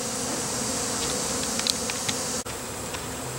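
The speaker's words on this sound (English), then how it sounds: "there's a lot of bees on those colonies, on those frames, cleaning them up" Dense, steady buzzing of many honey bees swarming over harvested honey frames outdoors, cleaning off leftover honey, a continuous close drone with no talking.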